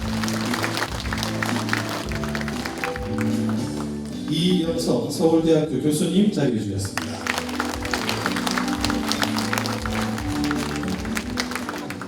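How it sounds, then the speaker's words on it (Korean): An audience at a forum on living conditions and military-civilian cooperation in Gunwi County breaks into applause for introduced guests, a dense burst of clapping rising midway and fading, with a presenter speaking before and after. "큰 박수 한번 부탁드리겠습니다"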